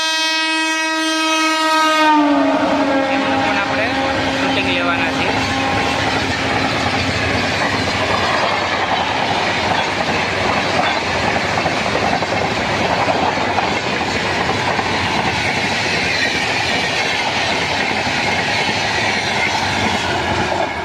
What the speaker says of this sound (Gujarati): આપણી ટ્રેન દેખાઈ ગઈ છે, પાસ થવાની છે. હોર્ન વાગે છે